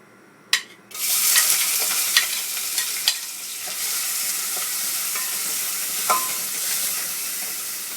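Onion dropped into hot olive oil in a pan for homemade pizza sauce, a sharp hiss bursting up and settling into a steady close sizzle, with a few utensil taps and scrapes.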